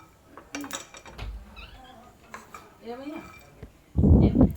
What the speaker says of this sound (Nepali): मैले बदामलाई यसरी प्यानमा भुट्दैछु